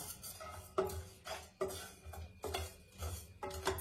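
Whole dried radhuni, fennel seeds and dried red chillies being dry-roasted in a wok for shukto spice powder, with a spatula scraping and stirring in loud, repeated strokes against the metal, clattering close up with no voices.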